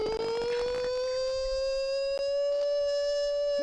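A beatboxer imitates a siren by humming in a falsetto voice with resonance, producing one long, loud, sustained tone that rises slowly and steadily, with a few brief clicks.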